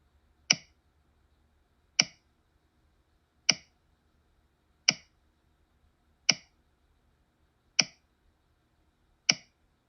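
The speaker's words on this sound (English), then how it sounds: "Delete any existing references by clicking each reference and then clicking the Delete button." Computer mouse clicks while working in a spreadsheet's Consolidate dialog, seven single sharp clicks spaced evenly about every second and a half, close and clean against near silence.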